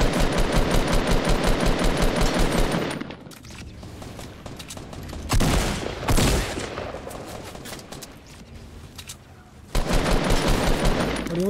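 Automatic gunfire in Fortnite: two long, loud bursts of rapid, evenly spaced shots, separated by a quieter stretch with scattered single shots and thuds.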